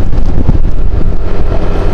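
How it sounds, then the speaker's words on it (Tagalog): Strong wind buffets the microphone while riding a motorcycle on a rainy road trip to Pitogo, Quezon, a loud, continuous rumbling roar with uneven gusty pulses that masks everything else. "Malakas yung hangin at magaan tayo kasi wala tayong angkas."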